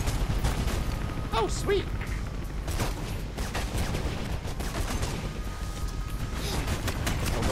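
Dense sniper and automatic gunfire crackles and booms in the Mirror's Edge video game. The shots come as rapid overlapping bursts that fill the whole clip, and a player's brief excited exclamations sound over them.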